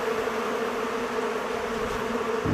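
Honey bees hum during a hive split, a dense steady buzz of many insects close by, holding even throughout.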